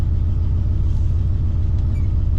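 A 1963 Pontiac Catalina engine idling, a deep steady low rumble with a regular pulsing beat, close and continuous with no talking.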